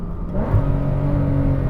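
Porsche 981 Cayman S fitted with F1 headers blipping its flat-six on a downshift, a short sharp rev rising in pitch and holding, loud and close with no talk.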